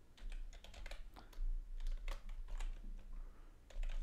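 Quick, uneven keystrokes clatter on a computer keyboard while code is entered, with short bursts and brief pauses between them. The typing is close and fairly quiet, with no speech.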